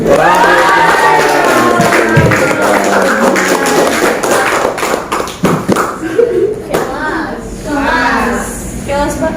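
An audience at a children's speech practice session at an Islamic school claps and cheers loudly. The applause is mixed with shouting children and thumps, and voices chatter throughout.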